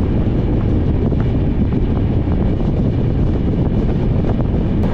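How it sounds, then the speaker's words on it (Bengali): A passenger train runs on the Kolkata to Ayodhya route just after leaving the station. A loud, continuous rumble of the moving carriages is buffeted by heavy wind noise, with no talk. "ট্রেন ছেড়ে দিয়েছে"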